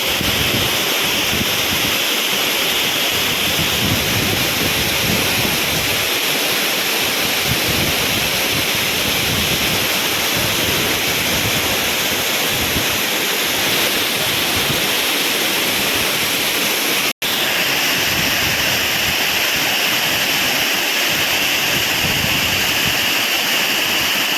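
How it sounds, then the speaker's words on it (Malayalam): Areekal waterfall in Pampakuda near Muvattupuzha roars with a loud, constant rush of falling water close by, a broad unbroken wash with no voices. "ഇപ്പം ഞാൻ നിൽക്കുന്നൊരു സെൻട്രൽ പോർഷനാണ് ഇപ്പം അരീക്കലിൻ്റെ വെള്ളച്ചാട്ടം"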